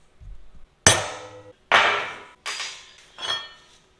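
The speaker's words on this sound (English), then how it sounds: "we're going to go ahead and center pop that" Four sharp metallic hammer strikes ring out on a center punch set into steel during semi truck hitch fabrication, each blow followed by a short decaying ring.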